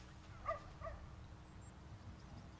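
A dog in The Sims 2 gives a couple of short, light barks early on, moderately close, over a low steady background hum.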